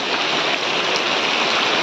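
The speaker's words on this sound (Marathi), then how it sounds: "पाऊस तर वाढता जोरातच लागता आणि आम्ही सरळ अडकलो" Heavy monsoon rain pours steadily on a Konkan village, a loud, unbroken wash of hiss and patter with no pauses.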